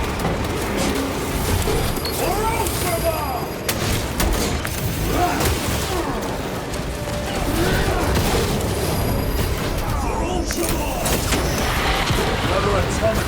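Gunfire at a turret in Warhammer 40,000: Space Marine 2: dense, continuous loud shooting and heavy thuds of battle, with game voices mixed throughout the clamor.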